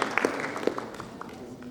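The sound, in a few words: audience applause at a poetry gathering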